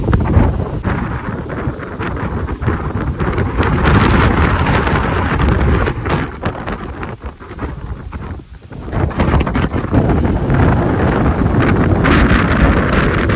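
Heavy dust-storm wind in a village buffets the microphone in a loud, continuous roar with gusting surges and a brief lull partway through.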